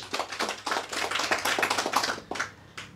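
Audience clapping, a quick burst of many hands that swells, holds for a couple of seconds and then trails off into a few scattered claps.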